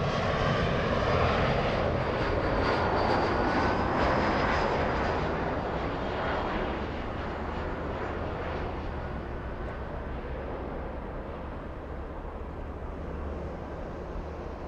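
Horizon Air Embraer E175 jet on a repositioning flight at LAX, its engines producing a loud, continuous roar with a whining edge that peaks in the first seconds and gradually recedes.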